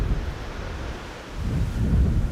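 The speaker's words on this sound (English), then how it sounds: "doing zoomed in shots of the cockpit is a bit more difficult when the wind is blowing so fiercely" Strong wind blows fiercely at Amsterdam Schiphol airport, a steady, roaring rumble that buffets the microphone and swells louder toward the end, with no speech.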